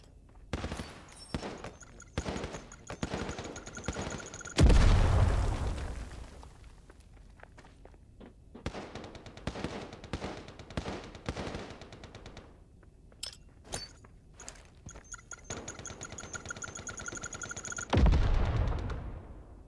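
Gunfire in the Lost Light shooter, sharp close bursts and single shots broken by quiet gaps, with two heavy booming impacts, one early and one near the end.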